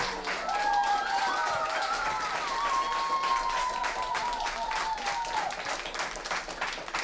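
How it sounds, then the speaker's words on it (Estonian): Audience applause at a youth music camp's closing concert near Lake Võrtsjärv, a steady dense clapping from a sizable crowd that holds evenly for the whole stretch, with faint voices and a tonal whistle-like sound drifting above it. "teeme neile tagant järgi veel ühe hästi suure aplausi"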